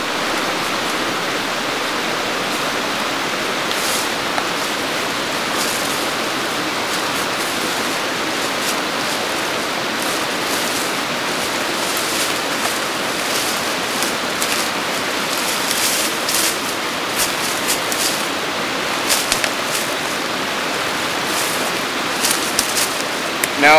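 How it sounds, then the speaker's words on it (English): A fresh running water stream rushes steadily outdoors, a continuous even hiss of flowing water that holds the same level throughout. "So now we can see the water down there, and it's a stream, it's running"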